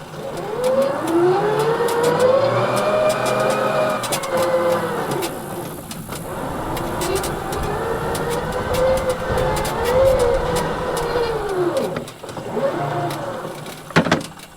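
A battery-powered Toro Grandstand Revolution zero-turn mower drives along with a steady electric motor whine that rises and falls in pitch for about fourteen seconds, dipping briefly twice, with no engine rumble and no talking.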